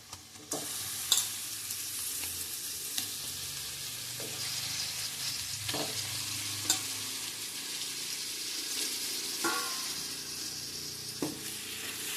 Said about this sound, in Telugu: ఉల్లిపాయ ముక్కలు వేగాయండి చికెన్ వేసుకున్నాము